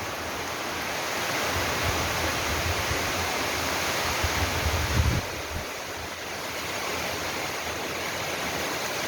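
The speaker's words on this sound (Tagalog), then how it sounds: "medyo mahina na yung hangin" Steady, heavy wind roaring across the microphone, a dense broadband rush with a gust swelling around the middle before easing slightly, in Bicol, Philippines, with a storm threatening.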